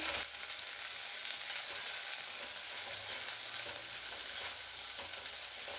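Mustard seeds, green chillies and curry leaves sizzle and crackle steadily in hot oil in a pan, a bright continuous frying hiss with small pops throughout.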